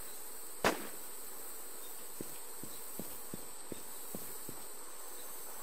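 Gunfire in the zombie survival game Infestation: Survivor Stories: one sharp, close shot is followed by a scattered series of faint, distant pops over a low steady background hum.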